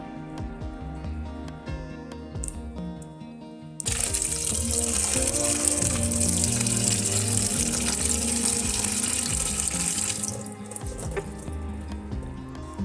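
Freshly picked drumstick leaves are washed under running water, a loud steady gush that starts abruptly, pours for several seconds and then cuts off, with quieter handling sounds before and after.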